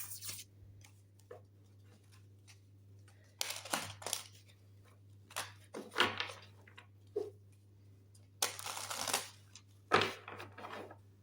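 Oracle cards being shuffled for a tarot reading, giving irregular bursts of soft papery riffling and flicking, each lasting under a second, separated by quieter pauses over a steady low hum.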